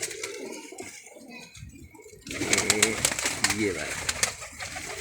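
A pair of teddy pigeons coo close by, soft throaty cooing rolls in bursts with a brief spoken voice over it, the male chasing the female.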